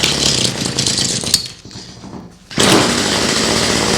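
A cheap 2-stroke gasoline hedge trimmer engine runs loudly in a garage, buzzing with a harsh, rattly drone that dips and sputters for about a second before surging back to full, steady power.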